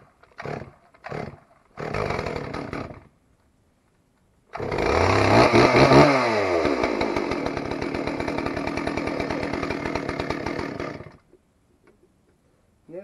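Chainsaw cutting firewood with a big steel bar: a few short revs, then a loud, sustained run of about six seconds under load that drops back to a rough idle, with no voices.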